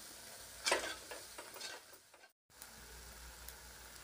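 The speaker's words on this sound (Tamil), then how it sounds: "இப்போ போட்டு நல்லா வதக்கி விட்டுக்காங்க, எண்ணெயில் நல்லா வதங்கட்டுங்க." Chilli powder masala sautéing in hot oil, a soft sizzle with spoon scrapes and stirring taps, a brief louder stir near the start and a short silent gap midway; no talking.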